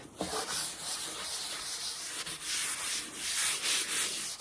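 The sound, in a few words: wiping brown wax onto a wooden bench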